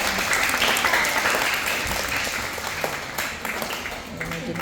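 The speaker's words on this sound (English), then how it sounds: "Let's give guys a clap. One applause." Small audience clapping after a quick sheep shearing demonstration in Perth, steady close applause with some voices mixed in, fading slightly toward the end.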